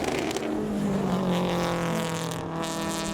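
Mark 1 Escort racing car on a circuit during a WA Sporting Car Club race day, its engine howling loudly at high revs in a sustained wailing pass with shifting pitch.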